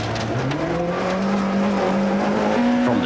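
A 1995 Toyota Conquest 4WD rally car on a gravel stage, its engine note climbing steadily as it accelerates out of a tight spectator section, loud and close with rising revs throughout.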